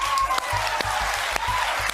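A reaction show's audience claps in a quick, uneven patter close by, with a low rhythmic thump running underneath.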